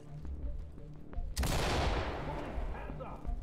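A rapid burst of gunfire erupts suddenly in the video game Ready Or Not, a loud sustained volley that slowly fades, with faint voices and game sounds before it.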